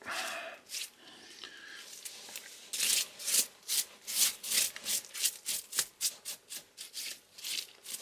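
Pork belly being rubbed by hand to clear off its salt cure, giving a close series of rhythmic, scratchy rubbing strokes that grow louder and more regular as they go, with no talk.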